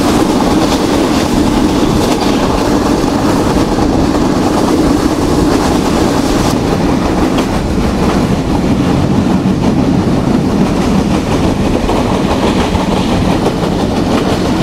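The Sundarban Express rushes along at high speed on the Dhaka to Khulna line, a loud, steady roar of wheels and carriage noise with continuous clickety-clack rail rhythm, heard from inside throughout.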